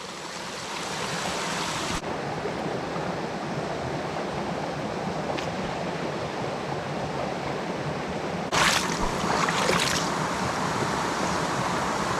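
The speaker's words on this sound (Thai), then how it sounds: "น้ำในลำธารสายนี้นะครับ ในบางจุดเนี่ย ค่อนข้างจะ ลึกนะครับนี่" A forest stream flows steadily through a rainy-season jungle, a dense, continuous rushing and gurgling of water that stays close and even throughout, with a brief louder splash near the end.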